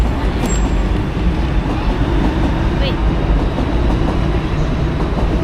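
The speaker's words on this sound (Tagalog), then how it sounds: "Kung ano yung tren sa likod mo. Dumadaan." A train passes close behind, producing a loud, steady rumble and rattle of rail cars that fills the whole clip, with a person speaking briefly over it.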